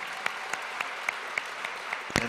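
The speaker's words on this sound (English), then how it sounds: "Let us give another big round of applause to the little angels." A large audience claps for the Little Angels troupe at a Foundation Day anniversary celebration, giving a sustained round of applause with sharp individual claps standing out from a steady wash of clapping.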